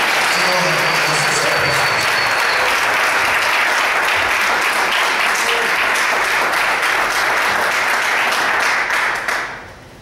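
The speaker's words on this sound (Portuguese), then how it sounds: "Quero que você aplaude o Senhor mais uma vez." A church congregation at a vigil service applauds in a dense, loud, continuous wash of clapping that holds steady for several seconds, then quickly fades out near the end.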